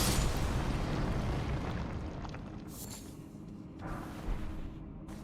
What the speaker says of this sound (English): We're just detonating these things now so that we don't end up in trouble later.